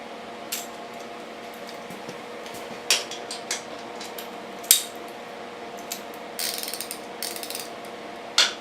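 A socket ratchet worked by hand during a Kawasaki KX125 top-end rebuild: scattered sharp metallic clicks and short bursts of ratcheting over a quiet workshop hum.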